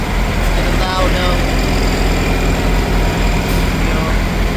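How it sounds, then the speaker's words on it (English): The diesel engine of a Thermo King reefer unit on a 53-foot trailer runs at a loud, steady drone after starting, with a constant low rumble that holds throughout. "the engine started. It's getting loud now"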